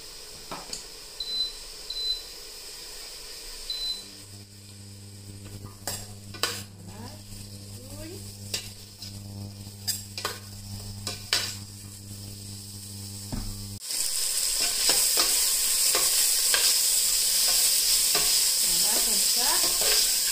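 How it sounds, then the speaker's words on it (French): Food sizzles in a hot pot with scraping and stirring, and the frying hiss swells suddenly loud as finely chopped onion and garlic hit the pan for Guianese calalou; a steady hum runs underneath. "l'oignon et l'ail que j'ai découpé en petits morceaux, je rajoute dans la casserole"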